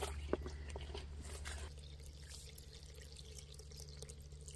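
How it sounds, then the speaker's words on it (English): Water running from an outdoor spigot into a bucket in the wilderness, a faint steady splashing and trickle with a few drips, fairly quiet and alone. "Turn the water on from the spigot here and fill the bucket up."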